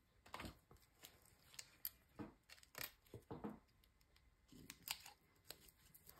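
Scissors cut a piece of paper during scrapbook crafting, with several quiet, close snips and rustles coming in short irregular bursts.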